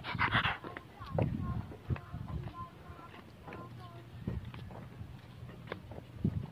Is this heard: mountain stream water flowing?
no